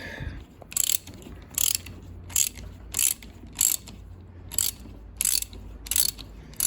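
A wrench ratchets a bolt loose while a Honda NTV650 motorcycle is being serviced: eight evenly spaced, close, sharp clicking bursts repeat about every 0.7 seconds over a low background hum, with no talking.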